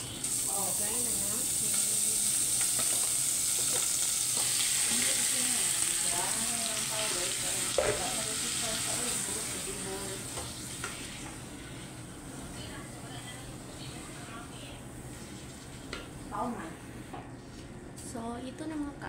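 Minced meat for a mutabbaq filling sizzling and being stirred in a hot pan: a steady, close frying hiss with scraping stir strokes, while a person talks over it throughout.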